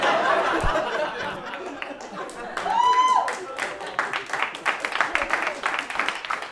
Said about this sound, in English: Don't applaud yet